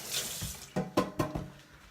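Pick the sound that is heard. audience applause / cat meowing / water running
water running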